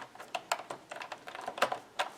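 Keys clatter on an AlphaSmart Pro ALF-C01 electric typewriter keyboard, an uneven run of close, crisp clicks of varying loudness with no voice.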